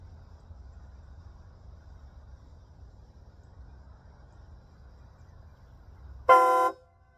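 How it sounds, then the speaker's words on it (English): A train horn installed on a Ford F-150 pickup truck blasts once, loud and sudden, for about half a second after several seconds of quiet low rumble. "That's train horn that I had installed"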